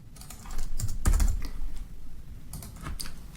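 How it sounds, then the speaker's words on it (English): Close, clear typing on a computer keyboard, with quick bursts of clattering keystrokes, a louder cluster in the middle and a short flurry near the end. "I can type that in."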